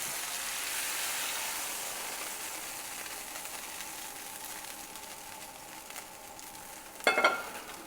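Browned beef tipped into a hot pan of mushrooms and onions with their juices, giving a steady low sizzle and a brief clatter near the end, with no talking.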